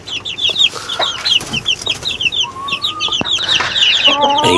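Backyard chickens and their growing chicks cluck and chirp, with bursts of high peeping from the young birds over steady clucking from the hens, close by and fairly loud throughout.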